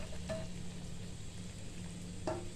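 Brinjal tamarind gravy simmering in a pan gives a steady, close bubbling and sizzling with a low continuous hiss and a couple of brief clinks or stirring sounds, with no talking.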